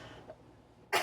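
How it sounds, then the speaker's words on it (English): A single short, sharp cough bursts out at the very end after a near-silent stretch, close and fairly loud. "Sorry, still have that cough."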